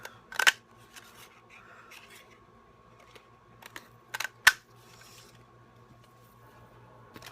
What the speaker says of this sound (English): I'm just going to cut out 3 scallops in this black paper.